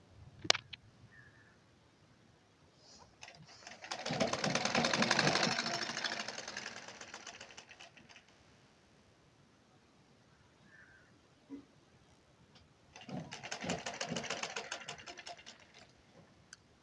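A sewing machine stitches a blouse sleeve in two separate bursts of rapid mechanical rattling. Each burst swells and fades, with quiet handling noises in between.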